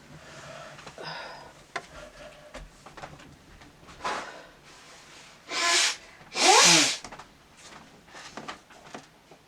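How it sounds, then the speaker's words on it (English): A single sharp human sneeze bursts out loud and close, preceded by a shorter sharp intake and followed by a softer second burst, with quiet rustling and faint handling noises around it in an otherwise calm indoor room. "I'm gonna sneeze."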